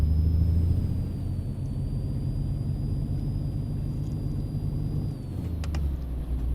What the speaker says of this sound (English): Engine does sound quite nice